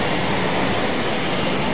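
An airplane arrives at Halim Perdana Kusuma airport, a loud, steady jet engine roar that fills the short stretch without a break or any voices.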